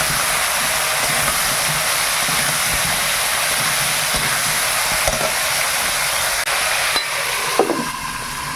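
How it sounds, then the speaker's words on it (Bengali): Cauliflower and potatoes coated in salt and turmeric frying in hot oil, producing a loud, steady sizzling hiss that runs throughout with a few faint clinks near the end and no talking. "ফুলকপি আলুটাতে লবণ হলুদ মাখিয়ে রেখেছি, এবার তেলে দিয়ে দিই, তেলে ভেজে নেব ভালো করে।"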